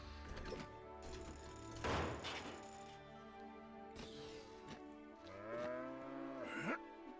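Cartoonish cow moos in the LEGO Jurassic World video game, several drawn-out calls mixed with game clatter, crashes and clinking coin-like pickup effects.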